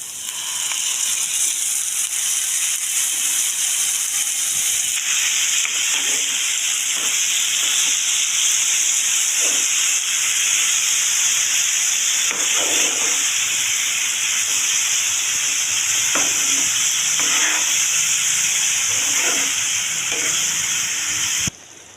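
Marinated liver fries in hot oil with onion, a loud, continuous close-up sizzle and hiss with small stirring knocks scattered throughout.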